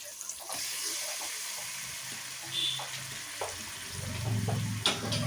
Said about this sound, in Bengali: এবারে এই মশলাটা আমি এখন মাংসটার সঙ্গে কষাতে থাকবো অনেকক্ষণ ধরেই।